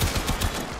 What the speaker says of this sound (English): Will you stop firing?